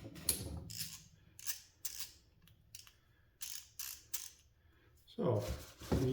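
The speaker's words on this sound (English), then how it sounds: "Got a nice ratcheting action." A re-greased torque wrench being ratcheted in short bursts, a series of quick mechanical clicking runs close up, with a faint voice near the end.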